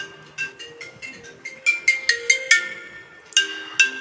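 A phone ringtone for an incoming video call plays a quick melodic pattern of bright, repeated tones in short bursts, fairly close and alone.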